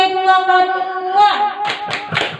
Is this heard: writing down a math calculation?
no